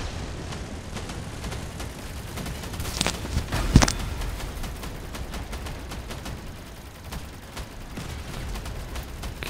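Rapid-fire machine gun shooting in the vehicle combat video game Crossout comes as quick crackling bursts with a few sharper, louder volleys near the middle, over a low rumbling background.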